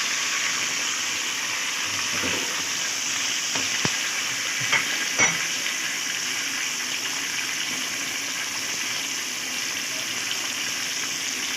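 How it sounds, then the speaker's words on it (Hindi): Chicken sizzles in hot oil with onions and ginger garlic paste, a steady loud frying hiss broken by a few stirring clanks near the start. "अब इस पॉइंट पर इसमें चिकन शामिल करेंगे और चिकन को हम इसके साथ अच्छी तरह से भुनेंगे"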